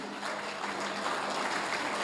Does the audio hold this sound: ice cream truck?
no